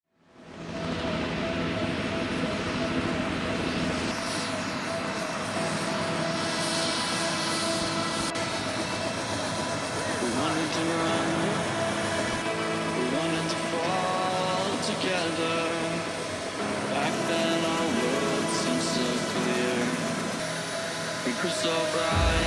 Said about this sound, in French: on prend l'hélico pour survoler le Grand Canyon